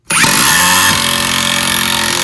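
A 36V Metabo HPT (Hikoki) MultiVolt triple hammer drill starts abruptly and runs loud and continuous at close range, its pitch settling as it bites into the work.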